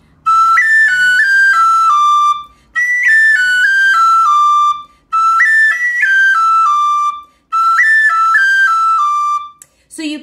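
Bright tin whistle phrases played four times, each run of notes opened with crisp cut ornaments on high A and high G, with short pauses between the repetitions.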